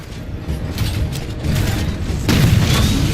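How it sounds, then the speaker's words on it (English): Heavy 20mm cannon fire in Titanfall 2 booms out close and loud in dense, overlapping bursts, with a mechanical clatter running through a continuous roar of combat. "The 20mm cannon is just very good."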